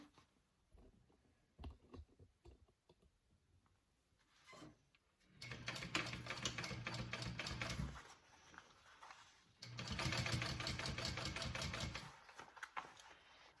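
A sewing machine stitches a tiny fabric bag in two bursts of rapid, close mechanical whirring, separated by a short pause, after quieter handling clicks and fabric rustles at the start.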